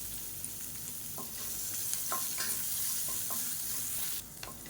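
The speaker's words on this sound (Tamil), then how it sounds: "பொடியாக நறுக்கின சின்ன வெங்காயம் ஒரு மூணு எடுத்திருக்கேன் இதையும் சேர்த்து நல்லா வதக்கி விட்டுக்கலாம்" Finely chopped small onions (shallots) sauté in hot oil in a pan while being stirred, giving a steady close sizzle with a few soft clinks of a spatula, no voices.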